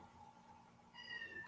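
A cat gives a single short, faint meow indoors near the end, following a quiet stretch with a low background hum.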